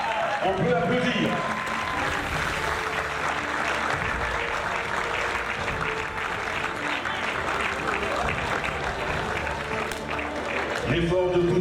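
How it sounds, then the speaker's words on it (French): Audience applause at a cultural event, a sustained patter of clapping from a crowd, moderately loud, mixed with talking and background sound. "On peut applaudir."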